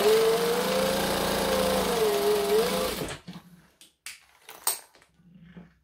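Sewing machine stitching down the sides of a laptop case, a steady close motor whir that stops after about three seconds, followed by a few short handling sounds.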